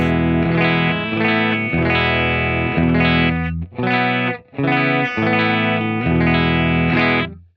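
A clean 2006 Fender Telecaster American Deluxe electric guitar on the bridge pickup plays a bright, twangy chord pattern up close, strummed in a steady rhythm with brief pauses between phrases.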